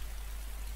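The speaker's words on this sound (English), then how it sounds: "Whilst it's raining outside." Rain falls steadily in the DayZ survival game, a brief, even hiss of droplets at low level with no other sounds.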